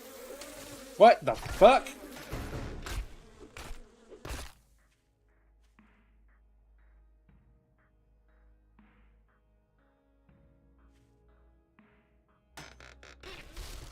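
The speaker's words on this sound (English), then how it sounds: "Since when are there fucking bees?" A swarm of bees buzzes in a horror video game, a brief loud droning burst mixed with sharp hits and a startled voice, then near silence before faint buzzing returns at the end.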